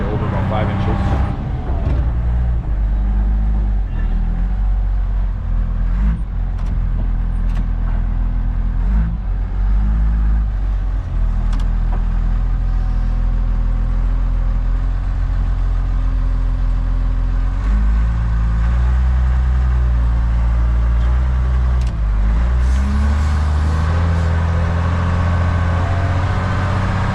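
A machine with forks runs with its cab doors open, its engine giving a loud, steady drone throughout while a person talks over it.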